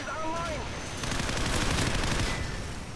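Fully automatic weapon fire in a Modern Warfare video game, a dense rattling burst of rapid shots with a few faint electronic tones early on and voices talking underneath.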